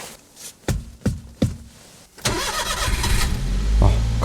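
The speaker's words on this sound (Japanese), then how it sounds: "じゃあエンジンつけて暖気運転しておきます。" An Indy 727 kei camper van on a freezing night, a few sharp starter cranks before the small engine catches and settles into a steady warming-up idle that grows a little louder.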